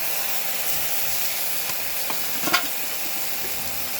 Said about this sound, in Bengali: এবার এর মধ্যে আদা জিরের যে পেস্টটা করে রেখেছিলাম সেই পেস্টটা ঢেলে দেবো